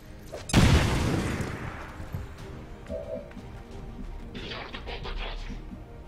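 A frag grenade explodes in XCOM 2 with a single loud, heavy boom that rumbles and decays over a couple of seconds, followed by scattered debris and quieter game effects.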